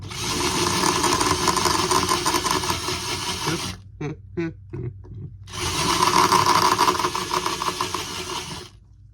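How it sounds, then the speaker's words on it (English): A power drill whines loudly and steadily for several seconds, pauses briefly with a few clicks, then runs again at full speed, drilling while installing B-17 main landing gear. "just listen to that grade A drill bit going through that"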